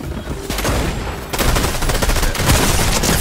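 Gunfire in the video game Fortnite, dense rapid bursts of automatic shots crackling almost continuously and loudly, with a brief break before the firing resumes.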